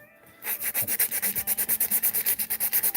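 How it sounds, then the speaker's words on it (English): Sandpaper rubbing back and forth over a clear-coated chrome part, a quick even run of raspy strokes starting after a brief quiet moment, close and distinct. "as I'm sanding it, it kind of feels almost slivery"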